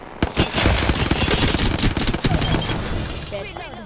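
Rapid automatic gunfire in Apex Legends rattles loudly in dense bursts, with sharp repeated shots and impact cracks close up and a brief pause near the end.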